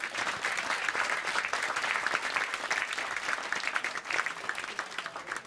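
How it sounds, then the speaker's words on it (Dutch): A live audience applauds at an evening stage show, a dense, steady clapping that fills all five seconds without letting up, with no talk over it. "Dames en heren, applaus voor Frank Wiering"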